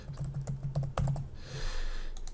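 Fingers type on a computer keyboard while a template is filled in, giving a quick run of close, crisp key clicks over a low hum, then a soft swishing pause before a few more taps.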